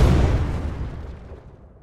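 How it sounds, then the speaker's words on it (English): An explosion sound effect playing in Unreal Engine 5 bursts with a loud, deep boom at the start, then its rumble decays steadily over the following two seconds, alone with no talk. "I'm sorry for the current explosion"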